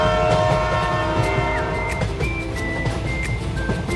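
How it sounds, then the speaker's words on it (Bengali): A train runs somewhat faster than usual, giving a steady, loud, continuous rumble with rattling and faint high tonal squeals throughout, with no speech. "ট্রেন চলেছে স্বাভাবিকের চেয়ে একটু বেশি গতিতে।"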